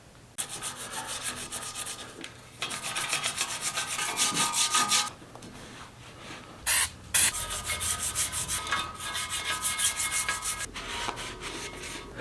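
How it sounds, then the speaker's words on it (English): A bicycle frame being wiped down and degreased by hand, heard as steady rubbing and scrubbing strokes in bursts with short pauses, close and fairly loud, with no talking. "The first thing I'm doing to this frame is degreasing it, wiping it down, cleaning it up"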